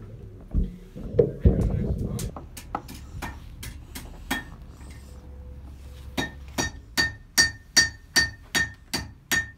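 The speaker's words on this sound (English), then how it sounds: "All I have to do is set it right on top and give it a few good swings with my hammer" A blacksmith's hammer striking hot metal on a hardy, starting with a few heavier blows and brief handling noise, then a steady run of sharp ringing clinks, evenly spaced and quickening slightly near the end.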